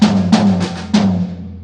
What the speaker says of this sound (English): with the 16th notes it would be something like